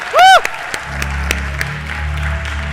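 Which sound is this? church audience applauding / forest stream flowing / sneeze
church audience applauding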